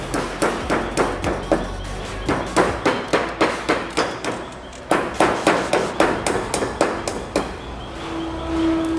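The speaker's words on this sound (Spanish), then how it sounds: "Estoy pegando con un martillo de goma" A rubber mallet knocks repeatedly on dried-out, cracking rubber parts of a Honda D16A9 DOHC engine during teardown, giving two bursts of rapid, evenly paced hollow thuds with a brief pause between them.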